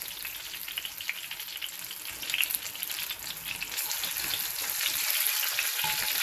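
Fish for a St Vincent stewed fish frying in oil in a pan over medium heat, a continuous bright crackling sizzle that swells slightly louder toward the end, with no talking.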